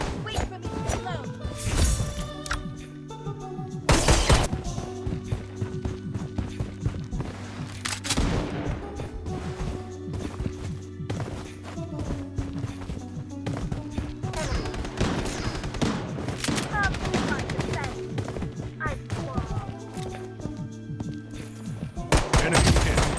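Rapid shotgun fire in the mobile shooter Bloodstrike during a squad fight, with dense repeated blasts and heavy in-game gunfire throughout, layered with game music and effects.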